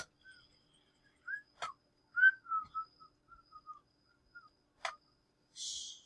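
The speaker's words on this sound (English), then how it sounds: "Don't whistle." A person whistles a short, wavering tune in brief separate phrases, fairly quiet and close, broken by a few sharp clicks and a soft hiss at the end, with no talking.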